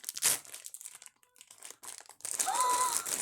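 Plastic packaging of a Stitch blind box crinkles as it is opened. Close, sharp rustles come in short bursts separated by pauses, then a sustained crackle with a faint tonal squeak.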